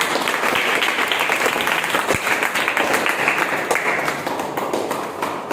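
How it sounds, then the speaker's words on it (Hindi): A room of schoolchildren claps together for several seconds at an APJ Abdul Kalam birthday class event, a dense rattle of small hands that tapers off near the end. "तालियां बजाओ।"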